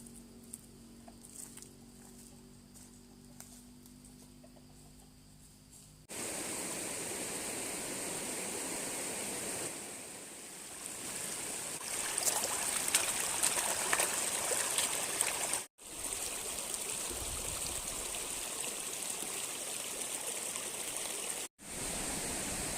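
A stream flows steadily at its headwaters behind a farm garden, a continuous broadband rush of water near the microphone with no talk; the first seconds are quieter before the water noise swells and holds.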